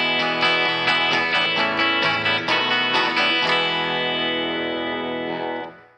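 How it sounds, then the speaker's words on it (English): Original Gretsch Tennessean electric guitar playing a lick, a quick run of bright, twangy picked notes with a slightly driven tone, ending on a ringing note that fades out, played alone. "This is the sound of our original Gretsch Tennessn."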